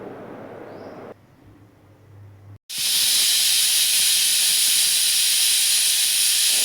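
A pressure cooker on the stove cooking mint rice lets out a loud, continuous steam hiss, preceded by quieter kitchen sounds and a brief pause, then the hiss bursts up and holds steady and close.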